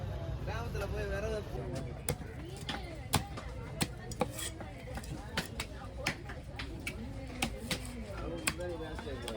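A knife chops through a large needle fish in a busy Kasimedu fish market, sharp thwacks landing about once a second over a lower steady hum, while people talk throughout.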